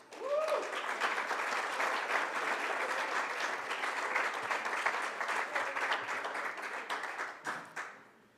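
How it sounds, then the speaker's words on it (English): An audience at a fifteenth-anniversary awards ceremony breaks into a full round of applause, a dense, fairly distant wash of clapping that holds steady and then tapers off near the end. "Can we get one more round of applause?"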